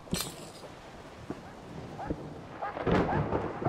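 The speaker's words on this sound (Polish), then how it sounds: "Wolves and the storm." Thunderstorm in the video game Rosemary's Fate, with wolves nearby: rumbling thunder and broadband crackling bursts swell through the stretch and build louder toward the end.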